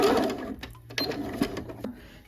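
A sewing machine back stitches on jogger fabric in short bursts, with a low motor whir broken by clicks and pauses, close and fairly quiet.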